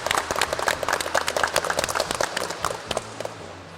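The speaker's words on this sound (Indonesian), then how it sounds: "Tepuk tangan untuk semua." A group of vocational automotive students clapping in a classroom, dense, quick, overlapping claps that thin out toward the end.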